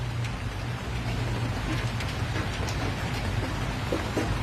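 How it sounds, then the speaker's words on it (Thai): Steady rain falls in a Thai rural setting, a dense continuous hiss with soft scattered drops on surfaces, moderately loud and unbroken throughout, with no voices. "บรรยากาศฝนตกข้อมไผ่พี่น้อง"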